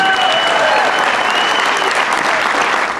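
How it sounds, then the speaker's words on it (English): A room full of people breaks into sustained applause, loud and close, with dense, even clapping and a few whistles or cheers layered in, fading slightly toward the end. "Give yourselves a round of applause, please."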